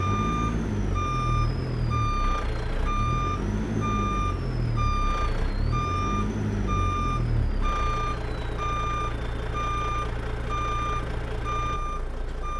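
A simulated heavy truck, a Peterbilt 389 with a DD60 engine, backs a trailer into a parking spot, its loud reversing alarm beeping in a steady repeating rhythm over a deep idling engine rumble, with no talking.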